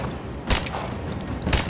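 Gunfire in the video game Rise of the Tomb Raider, heard as two loud, booming shot bursts about a second apart over a steady, noisy game background, with no talking.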